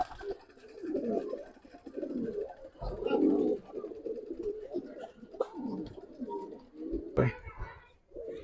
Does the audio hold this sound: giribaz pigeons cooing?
yes